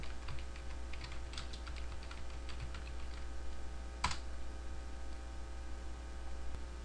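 Typing on a computer keyboard to enter data into an Excel spreadsheet cell: a quick, light run of close key taps, including one sharper press, over a faint steady electrical hum.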